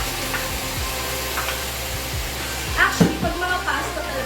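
Mushrooms hit a hot pan for a creamy tuna pesto pasta and sizzle steadily, a soft broadband frying hiss with a few stirring scrapes and knocks near the end, all close at hand.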